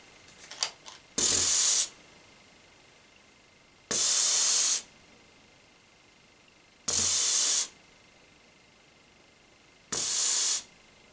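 A spray bottle of isoamyl acetate, or banana oil, being sprayed near a respirator, four loud, even hissing bursts of under a second each, evenly spaced, with faint handling clicks just before the first.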